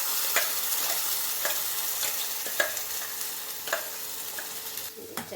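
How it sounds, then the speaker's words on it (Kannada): Ground green masala for chicken green masala sizzles steadily in a pan, with a spoon scraping and stirring at intervals, making sharp clinks and brief bursts over continuous frying hiss, close and fairly quiet. "ಈಗ ನಾನು ರುಬ್ಕೊಂಡಿರೋಂಥ ಮಸಾಲೆನ ಇದಕ್ಕೆ ಹಾಕೋತಾ ಇದ್ದೀನಿ."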